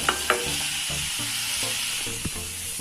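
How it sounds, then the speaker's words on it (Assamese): Mixed vegetables with carrot fry and sizzle steadily in a pan while a utensil scrapes and stirs in repeated strokes, close and loud. "এইটো আমি এনেকৈ লাৰি থাকিম"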